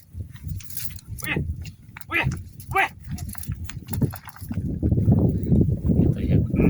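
Cows low a few times on open grassland while cattle and bullocks move about as they graze, with people talking and rustling ground noise rising toward the end.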